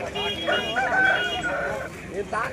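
A rooster at the Gudur chicken market, where aseel birds are sold, crows with a wavering, drawn-out call close by over a busy market background.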